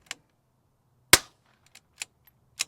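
Sharp rimfire rifle shots crack close and loud, one dominant report followed by fainter pops and clicks, each burst separated by silence.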